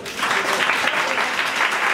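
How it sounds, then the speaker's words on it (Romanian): Guests at a Romanian wedding clap for the newlywed couple. The applause is dense and continuous, loud and close, with a faint voice briefly under the clapping near the start. "Vreau să salut de la pereche și vreau să-i aplaudăm."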